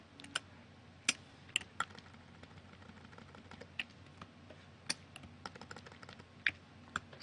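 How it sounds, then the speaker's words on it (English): Computer keyboard keys tapped as shortcut combinations, a sparse run of sharp, close clicks at irregular intervals over a quiet room hum, with no talking. "use the keyboard shortcut either Command or Control A to select all, and then either Command or Control G to group"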